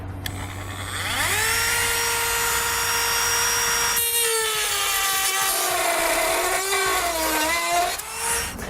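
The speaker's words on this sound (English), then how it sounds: "I'm going to be using a rotary tool to cut through the plastic" A rotary tool whines up to speed and cuts through plastic trim on a 2014 vehicle during a hidden trailer hitch install, a high steady buzz that shifts pitch as it bites into the material.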